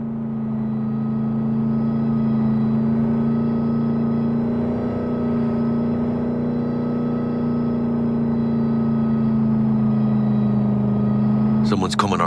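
A car drives steadily in Cyberpunk 2077, its engine a constant loud hum that holds level throughout with no gear changes, ending in a brief clatter.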